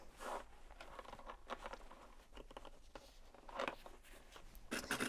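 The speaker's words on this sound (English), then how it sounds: "I'm going to open up my zipper, my long zipper" A long zipper on a bag being sewn is opened by hand, giving a series of soft, close rasping and clicking bursts with pauses between them and no talking.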